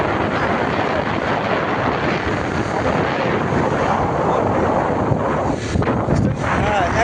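Steady roar of a motorbike carrying three riders along a deserted forest road, engine drone mixed with heavy wind buffeting the microphone, continuous and loud throughout.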